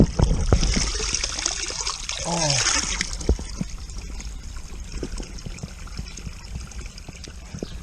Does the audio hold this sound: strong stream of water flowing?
yes